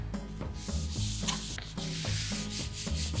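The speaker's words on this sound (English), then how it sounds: "I'm actually gonna flip it over to rub it from the other side." Paper being rubbed by hand over an inked foam printing plate from the back, a close, rhythmic swishing friction in repeated strokes about twice a second, steady and loud with no voices.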